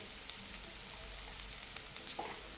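Onion paste browning in a hot pan with turmeric, a steady soft sizzle and crackle running quietly throughout, with a few faint sharper pops near the end.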